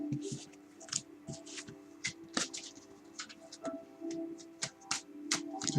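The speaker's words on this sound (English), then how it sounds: "Just shuffle" Tarot cards being shuffled and handled, a series of soft, irregular riffles and taps close by, with quiet gaps between them and a faint steady hum underneath.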